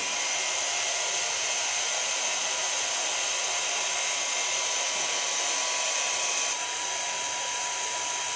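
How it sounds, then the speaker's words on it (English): Hair dryer fitted with a diffuser blows on hair in a steady, close, whooshing whir that runs unbroken throughout, with no voices. "Start to blow dry, and I use a diffuser."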